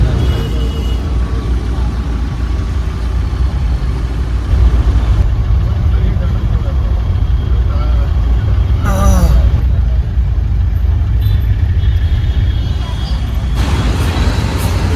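A vehicle travels along the road to Andheri, Mumbai, its low steady road rumble running throughout while a person talks over it.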